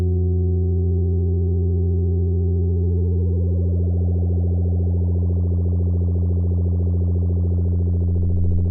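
A modular synth oscillator hums a steady harmonic tone, then grows brighter and buzzier in stages as modulation is turned up, each step adding a rougher, more complex edge; loud and alone, with no talking.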